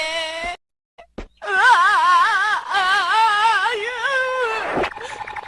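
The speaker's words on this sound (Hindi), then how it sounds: "ये अभी तक रो रहा है" A child wails and sobs loudly in long, wavering cries, breaking off briefly with sharp gasps before the crying resumes.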